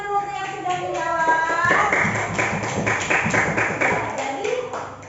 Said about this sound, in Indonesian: Beri tepuk tangan dulu untuk yang sudah menjawab